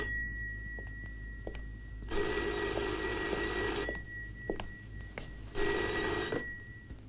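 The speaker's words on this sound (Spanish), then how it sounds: "Mi teniente, el teléfono." A telephone bell rings in a film scene set among military officers, sounding as two loud, shrill bursts separated by a short pause, with no talk over it.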